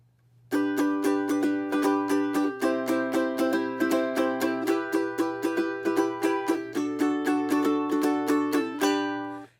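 Fast, busy ukulele strumming in a driving rhythm, chords changing every few seconds, with a faint low hum underneath.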